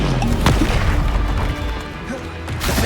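Confringo blasting spell detonating in Hogwarts Legacy, a loud booming crash with a deep rumbling tail, followed by smaller thuds and a second burst near the end.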